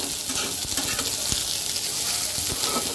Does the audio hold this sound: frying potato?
yes